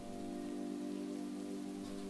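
Rain falling steadily on a surface, a dense constant patter with no break, heard alone at a low, even level.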